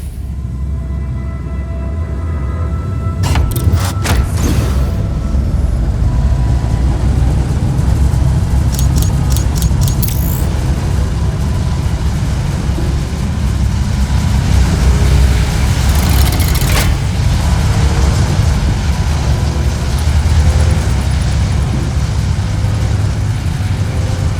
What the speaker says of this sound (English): The void drive takes some time to spool.